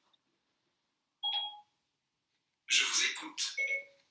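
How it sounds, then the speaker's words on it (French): A mobile phone that switches on by itself gives two short electronic tones, then a quick run of beeps, with a voice speaking over the later part. "j'ai mon téléphone qui se met en route tout seul"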